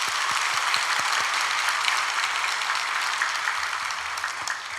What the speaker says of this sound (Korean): 그 주차 안내 봉사하시는 봉사자들을 위해서도 우리 감사하고 격려하는 박수 하겠습니다